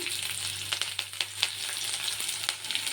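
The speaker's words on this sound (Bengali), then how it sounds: "পেঁয়াজ রসুন কাঁচা লঙ্কা কুচিটাকে কিছুক্ষণ বেজে নেব" Chopped onion, garlic and green chili fry in a pan for a leafy greens dish, a steady close sizzle and crackle with a few scraping stirs breaking through.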